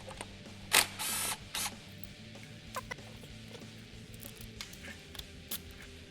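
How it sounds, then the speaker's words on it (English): Tools working on the flywheel of a Honda CRF150R motorcycle give sharp metallic clicks, ratcheting bursts and clanks, with a couple of loud bursts early and scattered lighter taps afterward, close up with no talking. "So we're going to be removing the flywheel and putting the main starter gear on it"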